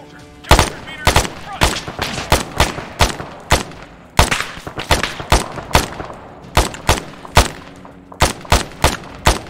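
Arma 3 gunfire lays down suppressing fire on enemies in loud, rapid automatic bursts, with clusters of sharp cracks separated by brief pauses.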